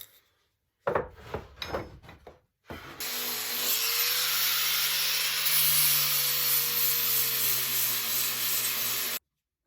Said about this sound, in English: Sand it down some.